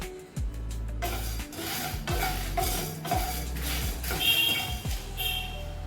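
Black pepper and dried red chillies are dry-roasted in a pan, with a series of close scraping and rattling strokes of a spoon against the metal and some pauses between them.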